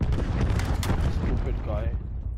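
A sticky grenade goes off in Call of Duty Blackout as a loud, dense blast that rumbles and slowly fades, with voices talking over it.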